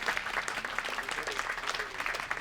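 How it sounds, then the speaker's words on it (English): An audience applauds at the close of an architecture talk, a fairly faint, steady patter of many hands clapping with no voices standing out. "Another big round of applause for Minsuk Cho."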